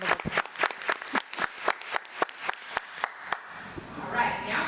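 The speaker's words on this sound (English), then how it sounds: "another round of applause." A small group at a committee of the whole meeting applauds a teacher. Sparse, distinct claps come in an uneven rhythm and thin out, then a voice begins to speak near the end.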